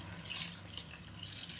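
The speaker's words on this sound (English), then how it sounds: "Then add in some water." Steady running water pours continuously into a cooking pot, a close, even splashing rush with no speech.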